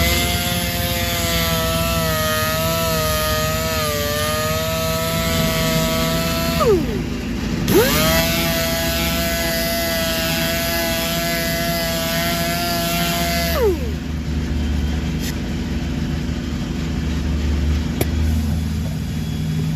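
Power sander working a damaged wheel with 800 grit, a loud continuous high motor whine that dips in pitch under load twice, then settles into a rougher steady grinding tone.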